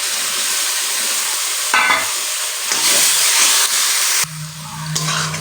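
Tomato paste stirred into a frying jackfruit curry masala with red chili, a loud steady sizzle and spoon scraping in the pan, close up with brief shifts in intensity.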